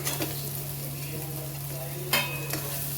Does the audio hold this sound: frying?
yes